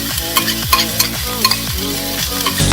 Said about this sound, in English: now we're going to add in the green onions and just saute them for a couple of minutes